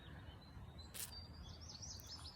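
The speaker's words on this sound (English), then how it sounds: "Do you hear the birds overhead?" Faint bird chirps and song drift over a low, steady outdoor rumble, with a brief brighter call about a second in.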